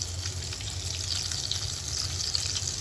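Fish pieces in a cornstarch coating fry in hot oil, giving a steady, close crackling sizzle that runs evenly throughout with a low bubbling rumble underneath.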